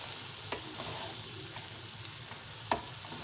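Chicken fried rice sizzles in a hot pan while a spoon stirs and scrapes through it, a steady close frying hiss broken by a few sharp clinks.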